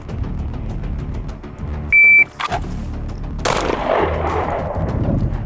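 Sharp, loud gunshots from a practical combat shooting drill, a couple of close reports following a shot-timer beep, with echoing range noise afterward.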